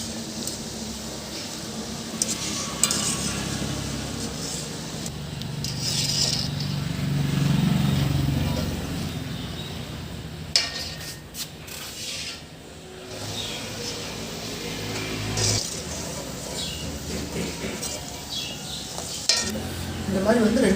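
Badusha sweets frying in hot oil for Diwali, each piece being turned over: a steady oil sizzle with occasional utensil clinks and scrapes against the pan, and faint background noise at times.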